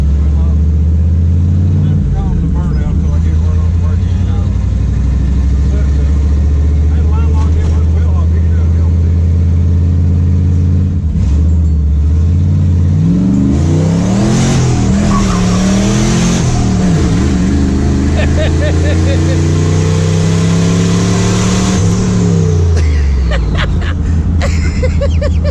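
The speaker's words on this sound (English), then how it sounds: "We're just cruising around in the Suburban." Chevrolet Suburban fitted with a bigger turbo cruising, its engine revving up and down in rising and falling sweeps, loud and close, with people talking over the engine throughout.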